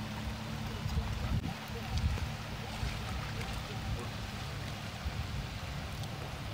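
A fishing boat passes on the Saco River near Biddeford on a calm day. A low, continuous motor rumble mixes with gentle water wash at moderate distance, with faint voices in the background.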